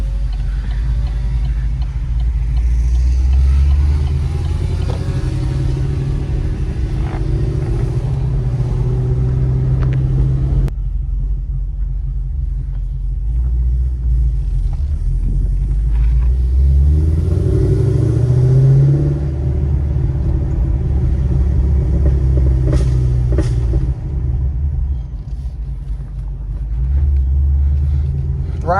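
Supercharged Chevrolet SS sedan rumbling low and loud while driving, its engine note rising and falling through shifts and accelerations, with faint voices briefly audible beneath it.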